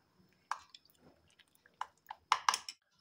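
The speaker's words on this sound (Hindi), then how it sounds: "दही, बेसन और मसालों को अच्छे से मिक्स कर लेते हैं।" Yogurt, gram flour and spices stirred into a batter with water, giving a handful of close, wet squishing and dripping sounds in short, uneven bursts against quiet.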